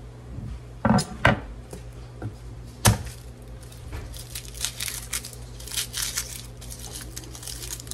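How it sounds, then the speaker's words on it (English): Pantry food being diced with a knife during home dinner prep: a few sharp chopping thuds near the start, then softer scraping and crinkling handling sounds, close and fairly quiet. "we'll go ahead and dice these"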